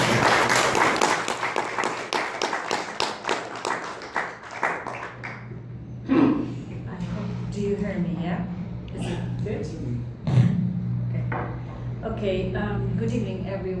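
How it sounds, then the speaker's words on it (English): Audience applause for a speaker being introduced at an evening talk, a burst of clapping at the start that fades within about four seconds, followed by room noise and a voice speaking. "Can we give her a really big round of applause"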